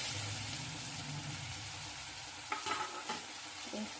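Small cleaned fish fry in oil with a faint, even sizzle. Later, a few quick spatula scrapes and clinks sound as they are stirred in the pan.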